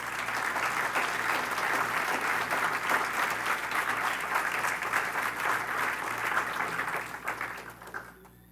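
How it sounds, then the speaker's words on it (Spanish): Church congregation applauding the Lord during an evangelical service, sustained dense clapping that holds steady and loud for several seconds, then fades out near the end. "Dale un aplauso al Señor."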